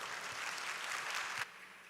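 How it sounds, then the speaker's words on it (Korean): Warm audience applause welcoming a missionary to the stage, a dense wash of clapping from a crowd that cuts off abruptly near the end. "우리 선교사님 나올 때 우리 뜨거운 박수로 환영해 주시기 바랍니다"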